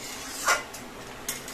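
Spicy shrimp curry with freshly picked young ash gourd cooks in a pan, a steady close frying hiss broken by a couple of scraping stir strokes, with no voices.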